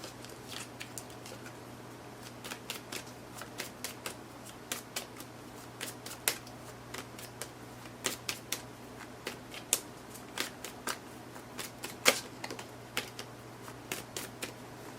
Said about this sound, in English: I'm going to put it back in and keep shuffling